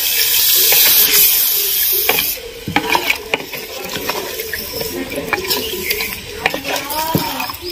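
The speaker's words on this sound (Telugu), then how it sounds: "మనం ఇప్పుడు ఇందులో వాటర్ పోసుకుందాం" Water from a glass pours into a clay pot for chicken feet curry, a loud rushing splash for about two seconds, followed by lighter clinks and handling sounds.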